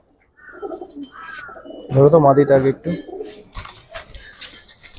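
Giribaz high-flyer pigeons coo in a loft, a loud burst of throaty rolling calls rising mid-clip, while people talk nearby and a few clicks and knocks sound.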